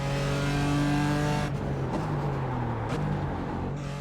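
A BMW M4 GT4 race car in the iRacing sim, set at Okayama in an IMSA Michelin Pilot Challenge race, runs loud and steady at high revs, then lifts off and its engine note drops and changes pitch, with faint tire noise.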